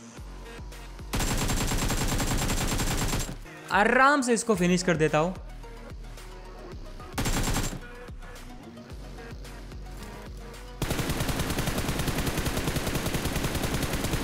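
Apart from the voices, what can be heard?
gunfire from a mobile shooter video game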